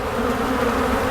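Honeybees inside a hive buzz in a dense, steady drone with a raised, agitated pitch, close and fairly loud, alone with no voices over them.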